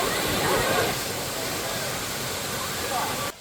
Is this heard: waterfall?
yes